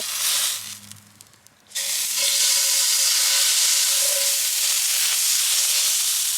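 Loud, steady sizzling of steak frying in a hot pan, starting suddenly after a brief quieter moment and continuing evenly.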